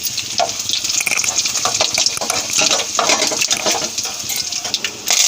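Cumin, dried red chillies, mustard seeds and garlic spitting in hot oil for a cucumber-lentil tempering, a loud, dense, continuous hiss with scattered crackles throughout.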